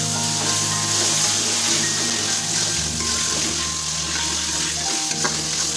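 Potatoes fry in hot oil in a pan while making a home-style chicken ghugni, a close, steady sizzle with some stirring and a low hum underneath.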